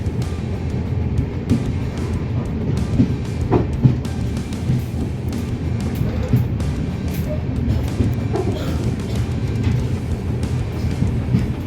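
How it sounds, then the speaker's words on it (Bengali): A passenger train rolling into Guwahati, giving a steady low rumble and rattle of the carriages with faint clanks, heard continuously from inside the train and without talk. "আমাদের ট্রেন ঢুকলো গৌহাটিতে"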